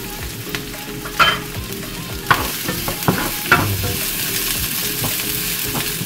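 Garlic sautéing with chopped lechon de leche in a pan for lechon paksiw sends up a loud, close sizzle. Sharp stirring scrapes and clatters punctuate it in bursts, and there is no talk.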